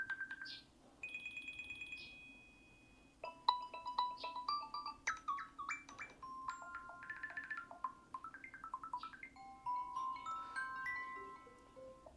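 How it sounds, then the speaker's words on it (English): A series of Apple Watch ringtone melodies plays in turn, bright synthetic beeping tones and chimes with short gaps between them, fairly quiet. "select your choice of ringtone here."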